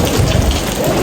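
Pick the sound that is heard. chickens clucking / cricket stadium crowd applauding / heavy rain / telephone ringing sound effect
heavy rain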